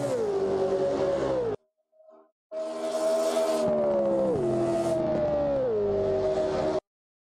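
Race car engine in rFactor 2 on the Phillip Island circuit: a loud, close engine howl holding steady pitch, a brief cut with faint sounds, then a long wail that drops in pitch twice as it changes gear, no talk.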